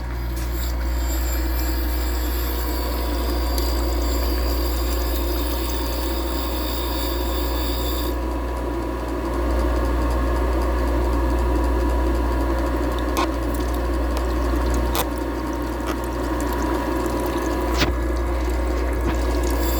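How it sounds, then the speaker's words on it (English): A valve grinding machine's stone is trued with a diamond dresser, a loud continuous mechanical drone with a wet, rushing wash of coolant and a few sharp clicks, close and steady with no talking. "then we'll just true up the face of that grinding stone"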